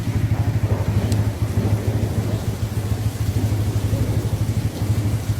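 A stopped motorcycle's engine idles at a forest path entrance, a steady, loud low thumping pulse with an even rhythm throughout.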